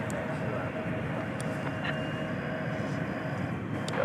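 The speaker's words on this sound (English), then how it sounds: "we've got American Airlines Flight 2769 coming in from Seattle" An American Airlines airliner arriving at DFW Airport at night, inbound from Seattle, produces a steady, moderate engine rumble and roar that fills the whole stretch, with a few faint higher tones above.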